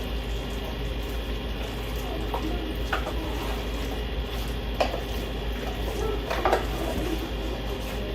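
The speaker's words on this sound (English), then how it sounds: "I'm just mixing it up." Gluten-free, dairy-free mac and cheese being stirred in a pot, with soft scraping and a few sharp clinks of a utensil against the side over a steady low kitchen hum, no talking.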